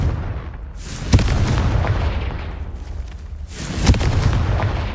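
Two Confringo spell blasts in the Hogwarts Legacy video game, loud booming explosions about three seconds apart, each followed by a rumbling decay.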